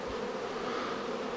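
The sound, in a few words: honeybees buzzing around hive boxes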